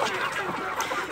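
Criollo chickens being fed corn make a dense, continuous mix of clucking and squawking from a close flock, steady throughout with no talk.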